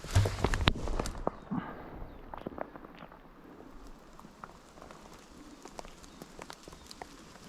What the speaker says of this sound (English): The bloody rain's fair coming down now.